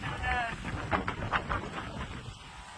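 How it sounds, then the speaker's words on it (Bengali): Wind blowing in a steady rush, with a voice talking briefly at the start over the blustery noise. "দেখো কি হাওয়া দিচ্ছে"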